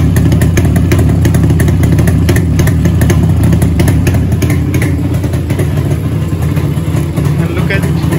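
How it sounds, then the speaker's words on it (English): Close and loud, a motorcycle with an Allied digital ignition kit sits at idle, its engine a constant throbbing rumble with faint clatter, holding steady the whole time. "That's what I call an absolute perfect idling."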